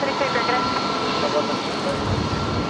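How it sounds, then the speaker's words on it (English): A Qantas jet, flight 559, takes off from runway 19 left at Brisbane Airport at night, a loud broad engine roar sustained throughout, with a faint radio voice alongside. "Qantas 559's just being cleared for takeoff."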